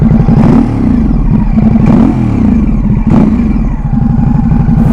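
A Ducati Supersport S motorcycle engine runs loud and close, its deep throbbing idle swelling into three quick revs spaced a second or so apart.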